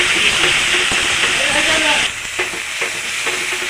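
Spice masala is stirred and fried in a pan with a loud, close sizzle and hiss. A spoon scrapes and clatters rhythmically through it, and the sizzle drops somewhat halfway through.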